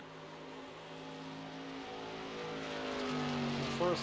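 SK Modified race car engine in a racing video game on a hot lap, a steady droning roar that builds gradually in loudness over a few seconds, heard alone without talk.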